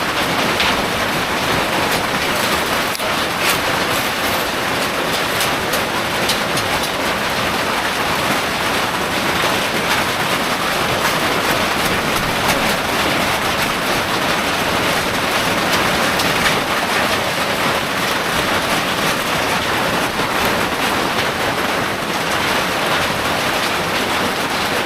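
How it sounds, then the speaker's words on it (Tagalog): Steady, loud rain pours down on a hanging tree house during a typhoon, a continuous dense hiss with no pauses and no voices. "Sana huminto ka na ulan."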